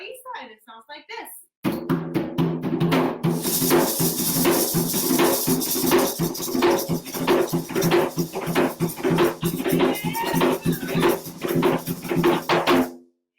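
Bomba drums play the seis corridos rhythm from Loíza, Puerto Rico, at a community dance event: dense, driving hand-drum strikes with a steady pulse and percussion accents. A short burst of talk comes before the drumming.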